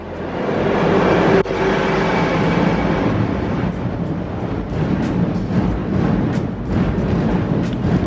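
A train rolls past close by, a loud continuous rumble and clatter of wheels on track with periodic clanks, sustained for several seconds.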